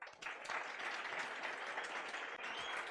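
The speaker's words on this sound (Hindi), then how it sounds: "ताली बजाओ भाई." Lecture-hall audience applauding: dense, steady clapping from many hands fills the whole stretch without a break, fairly loud and close, with no voices over it.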